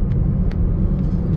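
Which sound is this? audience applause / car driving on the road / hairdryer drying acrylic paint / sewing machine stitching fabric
car driving on the road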